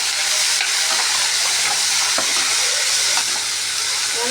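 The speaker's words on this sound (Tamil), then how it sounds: "இல்லை கருவேப்பிலை போட்ட உடனே வெங்காயம் போடுறோம். வெங்காயம் மறக்கி அது நல்லா வணங்கணும்." Onions fry with curry leaves in a pan, giving a loud, continuous sizzle close up. Occasional soft stirring scrapes sound over it, and no one speaks.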